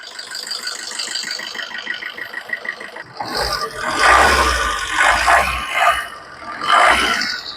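A diesel Swift Dzire ZDi idles nearby with a light mechanical rattle, and a louder, rougher engine surge swells in and out partway through.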